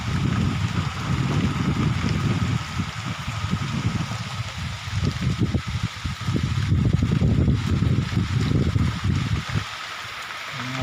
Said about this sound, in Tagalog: Lakas pa ang hangin dito mga idol.